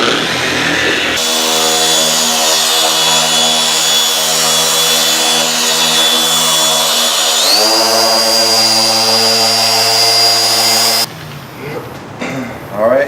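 A car polishing machine buffs paint in a steady, loud motor whine with stacked harmonic tones. It shifts up in pitch about two-thirds of the way through, then cuts off, leaving a few quieter clunks.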